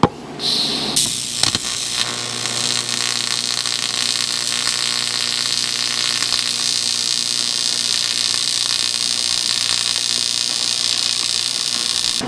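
Welding with 4043 aluminum filler wire, a steady unbroken buzzing hiss that runs close and loud after a few short clanks at the start.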